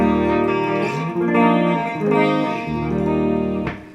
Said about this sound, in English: I've got a little touch of reverb on now from the amp